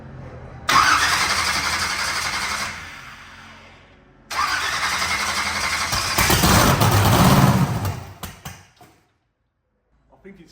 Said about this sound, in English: I'm just going to see if it starts on the pedal